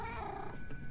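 A cat in the Minecraft Story Mode video game meows and purrs, a steady close purring texture with a brief meow tone, heard alone without talk.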